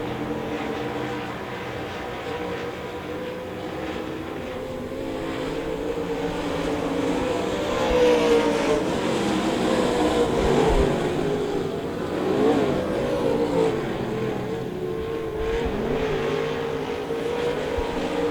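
Race cars lapping a speedway oval at a weekly championship series, a sustained roar of engines from several cars at moderate distance, rising and falling as they pass, with no talk heard.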